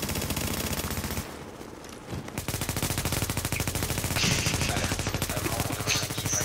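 Sustained automatic gunfire in The Division video game, dense rapid bursts filling the whole stretch, loud and close, with a brief lull near the two-second mark before the shooting resumes.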